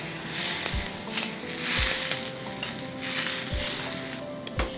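Water boils vigorously in a cooking pot with turmeric, salt and sprouts rice, a dense continuous bubbling hiss with occasional soft thumps from stirring, close and fairly loud, no voices.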